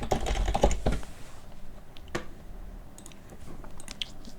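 Typing on a computer keyboard, a quick flurry of close key clicks at first, then sparse, fainter taps over a quiet background.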